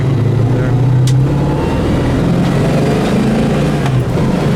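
A 1970 Buick GS 455 V8 muscle car drives on with a steady, loud low engine rumble, close to the listener, with no clear rise in revs.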